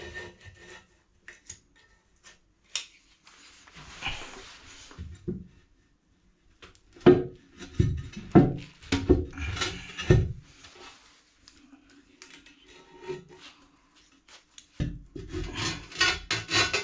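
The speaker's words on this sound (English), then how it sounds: "I just have to cut that silicone" Scraping and rasping bursts from a blade cutting silicone sealant around a pedestal basin waste, coming in irregular close strokes with quiet gaps between them.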